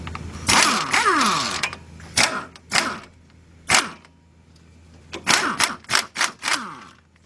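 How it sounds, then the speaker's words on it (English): Air impact gun spinning out a front strut bolt on a 2008 Ford Fusion, several loud rattling bursts of varying length separated by short pauses, close up. "Use the air gun to take this out the rest of the way."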